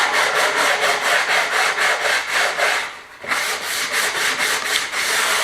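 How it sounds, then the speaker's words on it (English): Rhythmic back-and-forth sanding of wooden edges, loud and close, with a brief pause partway before the strokes resume. "sand all the edges down, make them all nice and smooth"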